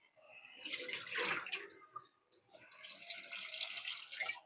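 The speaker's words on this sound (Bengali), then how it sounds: "আমি একটু দিয়ে দিই পানি।" Water poured in a splashing, gurgling stream into a pot of cabbage and green pea curry, two bursts of pouring with a short break between them.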